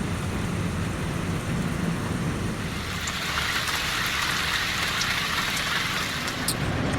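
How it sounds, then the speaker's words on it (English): Torrential rain pours down around a shanty boat in a steady, dense hiss of heavy drops with no pauses, sounding close and constant, with no voices. "And somehow it's even raining harder. Look at this. This is like a wall. This is a torrent. A torrential downpour."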